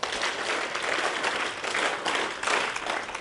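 Group clapping in unison by students at an SRM University workshop for the media partners, a dense, steady burst of applause from a room full of people.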